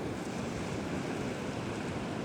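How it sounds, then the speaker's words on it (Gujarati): Sea waves break in a steady, continuous wash beside a fishing boat out on the water, with wind roaring across the microphone throughout and no voices. "એક જ ધારા મોજા ભાંગે છે"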